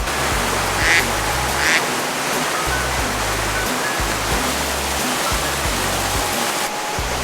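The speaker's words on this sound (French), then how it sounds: "il y a des canards là-bas" A couple of distant duck quacks over a loud, constant rush of flowing water.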